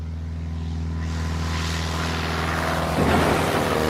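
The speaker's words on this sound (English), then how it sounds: "It's not exactly a textbook takeoff, huh?" Piper light propeller aircraft taking off as a dramatized sound effect, a steady loud engine drone that swells into a rougher, louder roar near the end, with no speech.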